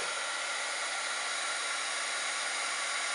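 Heat gun blowing hot air for melting embossing powder, a steady, even hiss-like roar with no variation, fairly quiet and with no talking.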